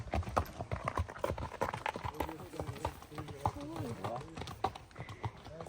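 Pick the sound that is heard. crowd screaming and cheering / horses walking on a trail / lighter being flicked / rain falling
horses walking on a trail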